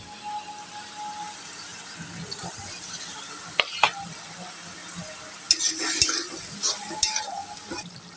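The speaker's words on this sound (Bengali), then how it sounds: "এই আলুগুলো একসাথে কষে নেব" Potato pieces frying in a spiced masala with ginger-garlic paste, a continuous close sizzle under repeated scraping and clanking of a spatula against the pot, with a few sharp metallic knocks.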